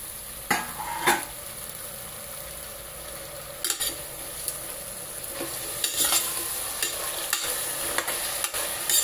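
Capsicum, green chilli and tomato sizzling in a pan while a spoon stirs them, with a steady frying hiss broken by several sharp scraping and clinking strokes at irregular intervals, close up and without speech.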